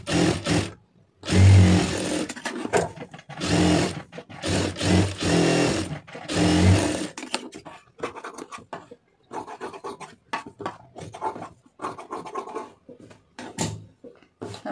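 A sewing machine stitches a blouse lining in several loud running bursts separated by short pauses, followed by quieter handling, rustling and scratching of fabric.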